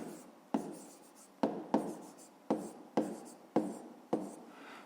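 Writing by hand on paper, a series of about seven crisp pen taps each trailing into a brief scratching stroke, near and clear with no speech.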